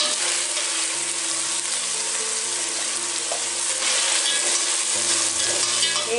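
Meat for chili verde browns in a hot pan with a steady, dense sizzle and crackle, close and continuous, with occasional stirring under it.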